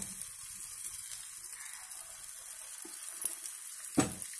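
Punugulu batter fritters fry in hot oil, a steady bright sizzle filling the clip with a few soft clinks and one sharper knock near the end, no voices.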